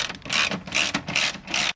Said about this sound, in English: Install the remaining screws. It's a 10mm socket right here